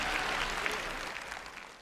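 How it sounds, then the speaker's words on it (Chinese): A studio audience at a Liaoning TV Spring Festival Gala applauds, a dense burst of clapping that fades gradually over under two seconds, with no voices over it. "观众的掌声就是分数"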